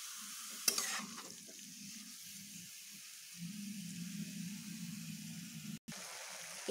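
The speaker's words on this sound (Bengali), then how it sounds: "মিডিয়াম হিটেই একটু ভালোভাবে ভেজে নেব" Giant taro stems frying in a pan over medium heat make a soft, steady sizzle, with a louder stir or clatter near the start and a brief cutout near the end.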